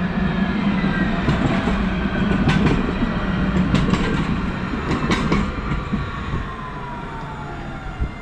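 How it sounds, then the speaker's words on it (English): A tram rumbles past on a street near an industrial estate, giving a loud, continuous rolling roar with faint rail clicks that eases off slightly toward the end. "You're about to see a tram go past."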